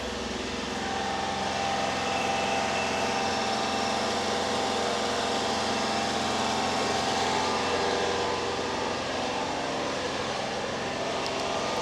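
A 1997 Honda Acty SDX 4WD mini truck with its rear-mounted engine idles steadily, a constant low hum heard close and alone with no talking.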